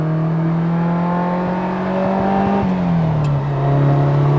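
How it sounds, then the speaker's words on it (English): Carbureted 2.9-liter Ferrari 308 GTB engine revving hard with a light flywheel, hot cams and sport exhaust, its steady loud wail holding pitch, dipping briefly, then settling lower, close and alone without talk. "Engine just loves to rev."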